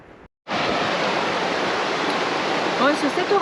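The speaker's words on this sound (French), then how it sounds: "Catarata de Poc Poc." Catarata de Poc Poc, a waterfall in a Peruvian valley, roars as a loud, dense wash of falling water that cuts in abruptly after a brief quieter moment and then holds steady, with faint chirps near the end.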